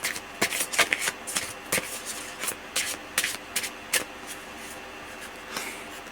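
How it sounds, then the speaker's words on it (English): Playing or tarot-style cards shuffled for a reading, a run of quick, crisp riffling bursts and soft flutters repeating irregularly at close range, with no voices. "Sometimes I'm shuffling and I realize that I'm like, sometimes I control the shuffling."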